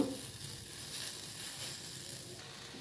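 Greens (thankuni-type leafy shak) hitting a hot oiled pan, a steady broadband sizzle with faint scraping stirs, close and continuous for a few seconds with no talk.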